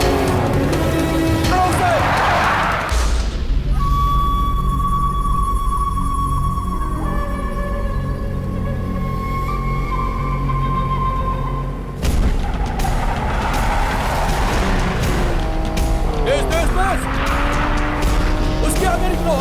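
Cars race at speed in a chase scene from the dubbed South Indian action film Paiyaa, with steady roaring engines, squealing tires and skids that stay loud and close throughout.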